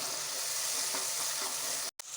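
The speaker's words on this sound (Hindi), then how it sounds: "अब इसमें हम मसाला भून चुका है" Masala with garlic-ginger paste frying in a pan after onions: a dense, close, continuous sizzle and crackle with faint stirring, cut by a brief silence near the end.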